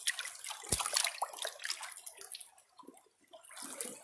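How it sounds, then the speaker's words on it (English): Water rushing through a homemade sluice box as gold-prospecting material is washed. The flow is close and continuous, briefly dropping away before surging again. "I may have too much flow going through my sluice"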